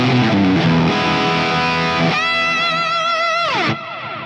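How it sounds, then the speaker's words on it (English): An electric guitar lead plays through a Fractal FM9 with multi-tap delay and big reverb, its sustained, bending notes trailing repeating echoes before a long wash fades out at the end. "That's a delay, a multi-tap delay, a multi-delay, and then a big reverb."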